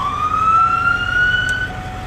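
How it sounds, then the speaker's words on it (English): A loud electronic siren on a 2003 Ford E-450 ambulance holds a steady, slowly rising tone for about two seconds, close by, with no voices. "So here's the siren."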